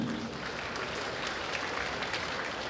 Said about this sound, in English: we can again give a round of applause for each one of you